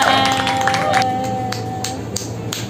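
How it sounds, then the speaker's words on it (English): Children clapping their hands together, a few light claps scattered under a fading musical tone and some background chatter, with no strong steady rhythm. "Clap, clap,"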